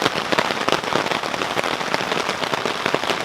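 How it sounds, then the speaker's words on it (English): Rain drums steadily on a canvas tent during a river camping trip, a dense, even patter close overhead with no voices. "hearing that rain on that canvas"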